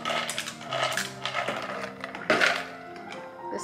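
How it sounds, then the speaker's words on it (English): Dry pasta noodles pour into a pot for baked feta pasta, producing a dense run of bright clattering clicks and clinks that swell twice, close and fairly loud, with no talking. "I'm gonna add the noodles."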